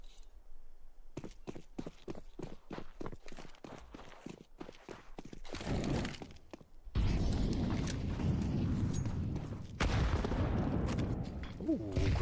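Counter-Strike match with rapid footsteps giving way to a booming grenade blast and bursts of gunfire, loud and close, with a commentator's voice faintly present.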